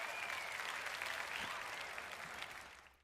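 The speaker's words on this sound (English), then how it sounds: "Give them a round of applause, a second round of applause for Hollis Dental Care." A studio audience gives a steady round of applause for a dental practice, with the clapping fading out toward the end.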